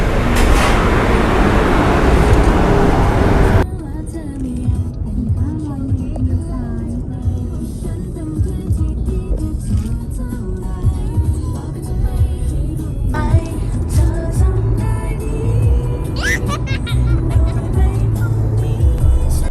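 A Honda City Turbo car driving in normal mode, with a steady engine and road rumble heard from inside the cabin, continuous and fairly loud throughout.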